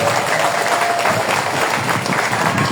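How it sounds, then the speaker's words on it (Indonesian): Applause from an audience at an outdoor Islamic tabligh akbar religious gathering, steady dense clapping that fills the whole moment with a faint crowd murmur beneath and no voice standing out. "Tepuk tangan dulu bapak-bapak."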